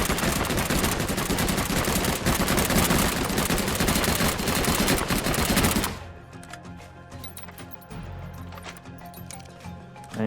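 A rifle fired in the video game ARK, a rapid continuous burst of automatic gunfire for about six seconds, then quieter scattered clicks and echoing tail.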